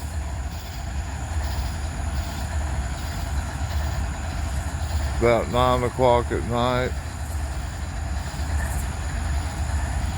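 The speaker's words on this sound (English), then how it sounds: "we got a train to pull in" A train pulls in through Abbeville at night, a steady, loud rolling rumble that fills the whole stretch, with a brief horn-like tonal blast in the middle. Someone talks briefly over it.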